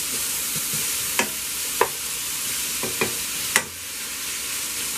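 Italian-style spaghetti squash browns in a pan with a low, steady sizzle, broken by four or five sharp scrapes of a stirring utensil, and no voices.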